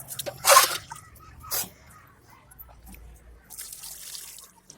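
Water carrying soaked vegetable scraps and eggshells is poured onto garden soil in a few short splashing gushes, close by, with softer trickling and dripping in between.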